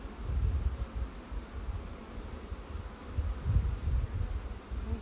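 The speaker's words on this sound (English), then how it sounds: "Ooh, there's some mad bees." Agitated honey bees buzz steadily around an open hive during queen-rearing work, a dense, low droning swarm that swells and dips without pause, close and fairly loud.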